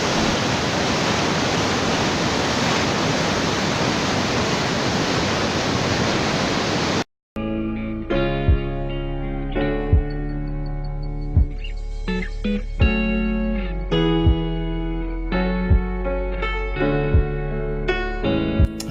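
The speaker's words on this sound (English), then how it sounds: "Still in this place where water surges with vehement fury" A waterfall surging over rocks and a cliff roars as a loud, dense, unbroken wash of water for about seven seconds before cutting away.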